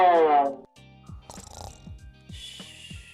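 A person imitates snoring, a series of rhythmic nasal snorts and rasping breaths, preceded by a brief spoken voice and accompanied by light background music.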